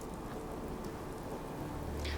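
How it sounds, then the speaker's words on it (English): Steady rain falling in Fallout 4's Far Harbor, a constant moderate hiss of drops on surfaces with a low rumble swelling near the end. "Oh my, it's raining again."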